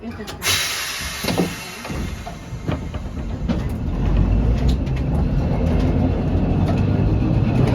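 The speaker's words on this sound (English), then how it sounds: "I'm one of Bendigo's vintage talking trams" A vintage Birney safety saloon tram in Bendigo runs with low rumbling and rattling, mixed with clunks and a door sound, rising to a steady louder drone while people talk aboard.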